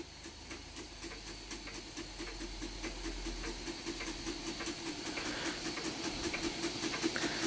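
A Weeden No.8 model steam engine running under steam gives a steady, rhythmic chuffing beat with a constant hiss, close and fairly even in level, and no one speaks over it.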